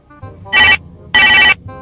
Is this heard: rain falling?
no